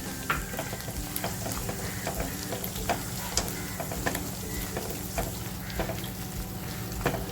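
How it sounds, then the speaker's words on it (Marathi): Potato pieces with crushed peanut powder fry over a low gas flame, a soft steady sizzle punctuated by regular scraping clicks of a spoon stirring in the pan. "आणि मंद गॅसवर दोन मिनटं हे फक्त फ्राय करत ठेवते"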